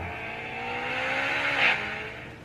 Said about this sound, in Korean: 부팅도 엔진 배기음이 나오고 있습니다